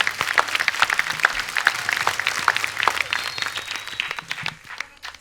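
Studio audience applauds to welcome guests onto a Hindi talk show, a moderate crowd clapping steadily with individual claps standing out, faint voices underneath.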